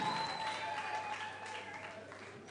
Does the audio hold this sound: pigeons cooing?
no